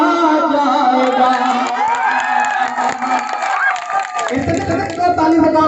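A rally crowd in Garhotiya, Bhagalpur, keeps up loud, dense cheering and shouting with some clapping for about six seconds, with a sharp burst of extra noise near the end.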